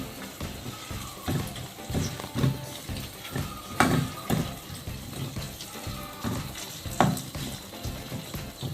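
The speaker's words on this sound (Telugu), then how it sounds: "ఒక స్పూను అల్లం వెల్లుల్లి పేస్టు, ఇది కూడా పచ్చివాసన పోయేదాకా వేయించుకోవాలి." Ginger garlic paste frying in a pan for an egg kofta curry, a steady soft sizzle with repeated scraping stirs and occasional sharper clinks of the spoon.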